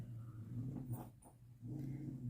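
A dog growls low and rumbling close by, the throaty growl rising and falling over a couple of seconds in a quiet room.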